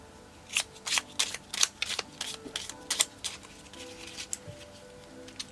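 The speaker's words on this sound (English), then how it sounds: "and I will just shuffle." Deck of playing cards shuffled by hand for a cash-stuffing savings challenge, a run of crisp riffling bursts and soft card slaps close to the mic, uneven in rhythm and fading into lighter shuffles.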